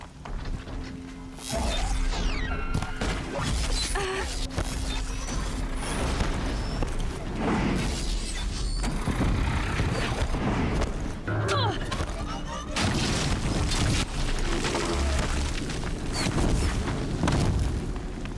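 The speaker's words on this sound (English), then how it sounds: "More sounds of combat." Combat in the video game Horizon Zero Dawn, with a corrupted Thunderjaw machine nearby: continuous loud booms, crashes, metallic mechanical clanks and impacts layered with game music and effects, sustained throughout with no pauses.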